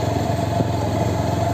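Pulsar 150 motorcycle engine running steadily at low revs, a continuous close, loud putter with a constant tone, heard alone.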